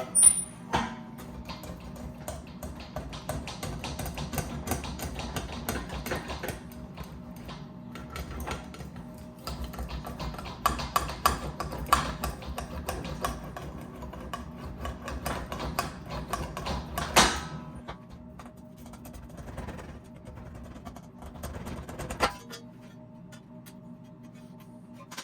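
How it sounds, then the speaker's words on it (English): Steel floor pan panel for a 1966 Triumph GT6 worked on an English wheel in a home garage, giving quiet rolling, clicking and clanking passes with short pauses, faint and close. "I'm gonna go on the English wheel and try to make it narrower"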